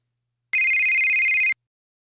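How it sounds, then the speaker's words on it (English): Electronic phone ringtone in the visual novel game Doki Doki Literature Club (mod This Bond We Share), a single clean one-second tonal burst, loud and alone against silence. "I suddenly stopped, turning to look at my phone. She's calling."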